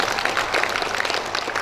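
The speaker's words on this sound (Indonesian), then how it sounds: "Kasih tepuk tangan sedikit." Graduation audience at an Islamic institute ceremony applauding, a dense, steady wash of many hands clapping at moderate volume, close and continuous with no voices over it.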